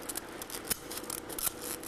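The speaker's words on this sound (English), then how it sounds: "the scissors along, and that parts it off" Sharp scissors snipping along fabric being peeled back off glue while covering a Drifter ultralight aileron: a quick series of close, crisp cutting clicks, two of them louder and sharper, with no talking.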